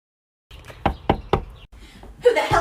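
Three sharp knocks on a door in a comedic skit, evenly spaced and close, followed by quieter shuffling and then a burst of voice or laughter at the end.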